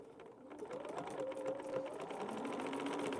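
A home sewing machine runs a continuous stitching burst at a quilting table, a steady mechanical whir with rapid needle chatter, fairly close and alone.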